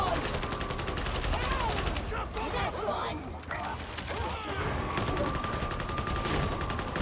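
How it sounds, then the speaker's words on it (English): Rapid repeated gunfire aimed at a sniper in the video game Warhammer 40,000: Darktide, a steady mechanical stream of shots that pauses briefly midway before resuming, loud and close, with no talking. "if you keep throwing bullets in the general direction of the sniper, you're bound to hit eventually"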